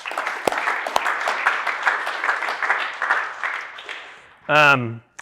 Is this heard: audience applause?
yes